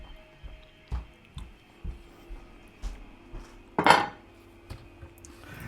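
A spoon and a plate being rinsed at a kitchen sink: a string of light metallic clinks and knocks at fairly even intervals, with one louder clatter partway through and quiet moments in between.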